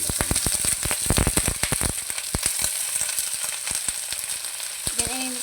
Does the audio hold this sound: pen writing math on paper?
no